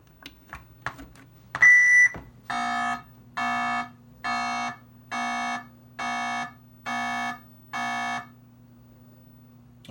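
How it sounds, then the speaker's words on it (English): Test beep tones from the sound circuit of a 1978 Atari Super Breakout arcade circuit board under repair: one longer, distorted tone, then seven evenly spaced, identical electronic beeps in a steady rhythm over a low hum. "the first beep was bad"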